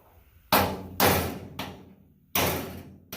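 Thin chisel hammered into a rear panel seam on a Willys MB jeep: five sharp, close metallic strikes at irregular intervals, each ringing briefly before fading.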